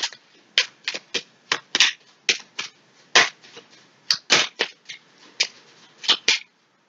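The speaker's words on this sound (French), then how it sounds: "Je vais juste recouvrir le 8 de pique." Playing cards slapped and laid down on a table during a card reading, a rapid run of crisp, close snaps and flicks repeating about twice a second.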